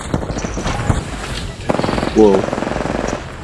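Gunfire strikes a player in the Apex Legends video game: rapid bursts of shots rattle in quick succession near the end, with a startled exclamation and talk over them.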